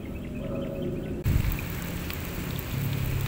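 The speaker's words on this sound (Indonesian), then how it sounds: "Sampai turun hujan ini pemirsa." Rain falls outdoors over a rice field, a soft patter that suddenly grows into a heavier, denser downpour partway through, steady and close with no voices.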